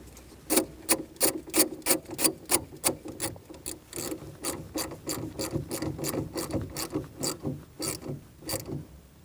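Ratchet tightening the negative battery terminal on a Chevrolet Cruze, giving a close, rhythmic run of sharp clicking strokes in quick bursts that slows slightly toward the end.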